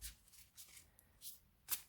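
A semi-gloss tarot deck is shuffled by hand in several soft, papery riffling bursts, close and quiet, with a sharper final riffle near the end.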